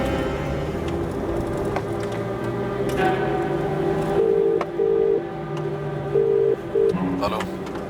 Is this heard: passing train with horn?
no